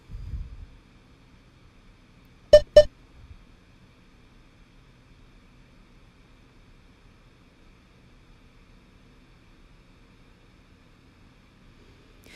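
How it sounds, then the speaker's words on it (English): Two sharp electronic beeps from a workout interval timer during a no-equipment Tabata session, close together and loud against a quiet, steady background hum. "Keep going right to the end, right till you hear those beeps."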